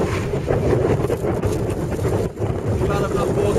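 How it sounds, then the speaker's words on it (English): Strong wind by Issyk-Kul lake buffeting the microphone in a steady, loud roar with gusty swells, close and continuous for a few seconds. "Glad I'm not walking into this wind."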